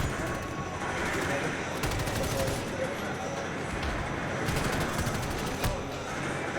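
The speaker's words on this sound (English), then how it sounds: "A lot of grenades flying around," Call of Duty gunfire and grenade blasts in a 2v2 tournament match, with dense overlapping bursts of shots running throughout and a few sharper clusters.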